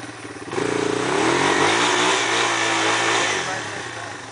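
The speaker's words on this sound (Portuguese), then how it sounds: "agora acelera com tudo essa moto aí" A trail motorcycle out on a dirt-trail ride is pushed to full throttle, its engine jumping from a low idle into a loud, sustained high rev that holds for several seconds before easing slightly, close to the listener.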